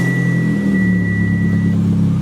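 A Mitsubishi Evo X with its 4B11 engine and a small muffler fitted runs with a loud, steady low rumble and droning idle, a faint whine riding on top for most of the clip.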